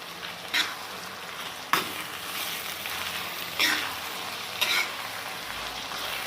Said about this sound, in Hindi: अब इसे मिक्स कर देंगे